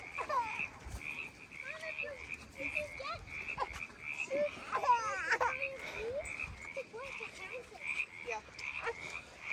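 Several frogs croak outdoors during a frog hunt, a steady chorus of short, repeated croaks at low to moderate volume, with faint rustling and movement nearby.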